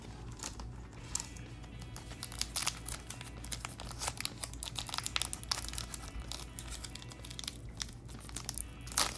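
One Piece trading card booster pack wrappers being torn open and crinkled, close and continuous foil crackling with sharp tearing bursts and no talking.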